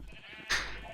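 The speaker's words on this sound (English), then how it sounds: "I have a lot of sheep of many different colors and they're just here." A sheep in the video game Minecraft gives one short, bright bleat over a low steady background hum, loud and close.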